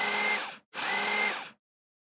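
Cordless electric screwdriver driving small screws into a model kit, two short whirring bursts of about half a second each, separated by a brief pause, close and clear with no talk.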